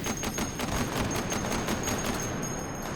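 Mk19 automatic grenade launcher in the VR shooter Hot Dogs, Horseshoes and Hand Grenades, firing a steady rhythmic burst of loud, dense thumping shots in rapid succession, continuous throughout with no talking.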